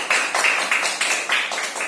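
Brief burst of classroom applause: a room of students clapping together in quick, steady rhythm for about two seconds, loud and close, with no speech over it.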